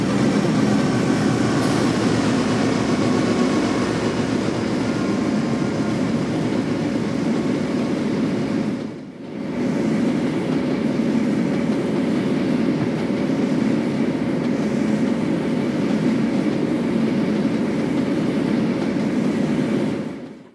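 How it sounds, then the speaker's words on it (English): A heavy CSX freight train roars past at close range at Clarence, locomotive engines and mid-train distributed power units under throttle droning loudly and continuously, with a brief dip partway through. "The mid-train DPUs pass the signal here at Clarence, and they aren't letting off the gas"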